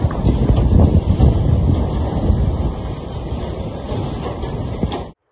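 Hurricane wind roars at a market in Barnaul, Russia, a loud continuous rumbling buffet of gusts battering the microphone, easing slightly midway before cutting off suddenly.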